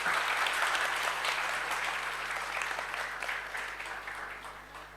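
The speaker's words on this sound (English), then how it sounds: "A big round of applause for them." A university audience at Bennett University applauds its speakers in a steady, full round of clapping that eases slightly in volume over a few seconds, with a faint electrical hum beneath.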